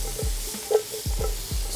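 Onions are tossed in a pan over medium heat, a steady sizzle broken by several quick scraping stirs and clatters in a short burst.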